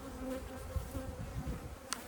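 Honey bees buzz in a steady, faint drone around an opened top bar hive, the hum holding evenly throughout with a brief brighter flicker near the end.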